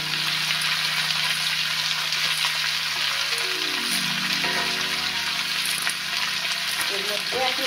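Tomatoes and zucchini hitting hot oil in a pan with fried green chillies, a loud continuous sizzle and crackle with faint stirring and a few low tones underneath.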